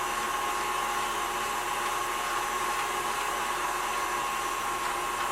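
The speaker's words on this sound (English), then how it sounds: "how to get my meat ground up in the KitchenAid" A KitchenAid grinder runs while grinding pork for egg rolls: a constant, loud motor whir holds steady and unbroken throughout, with no talking.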